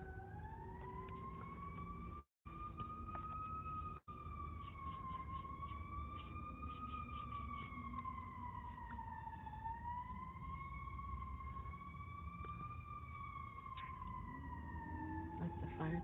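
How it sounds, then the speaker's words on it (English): A fire truck siren wails continuously at a distance, rising and falling slowly over a low engine and traffic rumble, steady throughout. "That's the fire truck."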